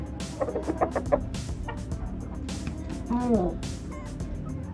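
Purebred Rhode Island Red chickens on a cold farm in New City Phase 2, Pakistan, give several short clucks early on, then a louder drawn-out call, over a constant noisy background.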